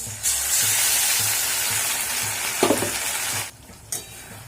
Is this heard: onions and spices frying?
yes